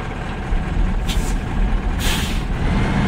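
Hiss of a truck's air brake being set in the Snowrunner video game, two sharp bursts of air at about one-second intervals over a steady low idling engine rumble, close and fairly loud, with no talking.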